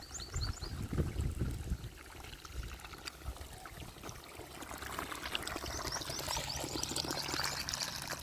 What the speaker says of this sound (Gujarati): ધીરે ધીરે મોટરનું પાણી આવે ને ધીરે ધીરે ભરા